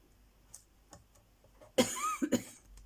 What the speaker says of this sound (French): La colle, moi, ça me fait tousser.